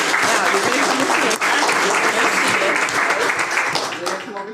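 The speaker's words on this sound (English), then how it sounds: "let's clap one more time for him" Steady, dense applause from an audience at a school board meeting fills the room for several seconds, then thins and fades toward the end.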